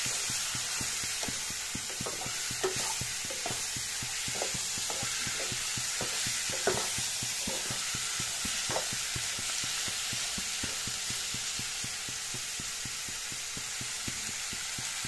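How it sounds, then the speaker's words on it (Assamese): Chicken pieces fry in a pan with a constant sizzling hiss, while a utensil scrapes and stirs in repeated strokes. The sound is close and steady throughout, and no one speaks. "মাংসখিনি এনেদৰে তলপৰ কৰি লগাই দিছোঁ।"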